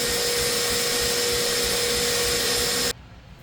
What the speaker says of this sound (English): the mixer is really loud